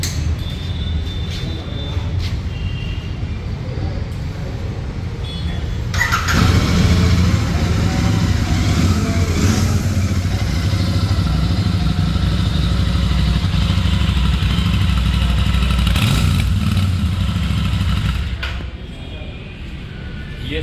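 Royal Enfield Super Meteor 650 motorcycle with a 650cc engine, running steadily loud and close, swelling in revs midway and then easing back, with no one talking over it.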